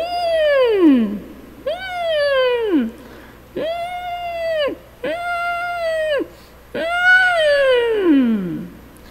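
Voice imitating an angry kitten during a singing exercise, giving five drawn-out nasal meow-like cries, some falling in pitch and others held level, loud and close with short pauses between them.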